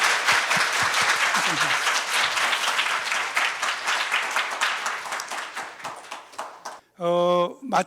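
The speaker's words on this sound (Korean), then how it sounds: "큰 박수로." Audience applause at a symposium session on healthy aging, loud dense clapping from a full room that gradually thins and tapers off, then a sudden burst of sustained tonal music near the end.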